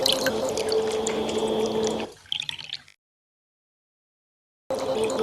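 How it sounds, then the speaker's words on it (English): A trickling water sample: a steady, close run of small drips and liquid splashes with a low hum underneath, cutting out into silence partway through and then resuming abruptly. "We got this trickling water, which I use a lot"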